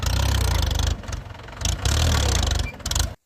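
An engine fitted with a modified silencer exhaust runs loud and close at night, its throbbing idle broken by short revving bursts before it cuts off abruptly.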